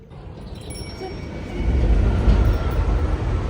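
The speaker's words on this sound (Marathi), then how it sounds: "नाही ट्रेन बघा ट्रेन" A train passes near a village, a low rumble building after the first second and staying loud and steady, with no talk over it.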